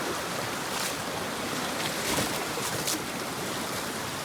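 Steady broadband rush of river water flowing past, continuous and fairly close with no voices, a dense even wash of sound throughout.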